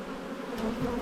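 Honey bees from a large spring colony buzzing close by during an open hive inspection, a dense steady drone that swells slightly as individual bees fly near.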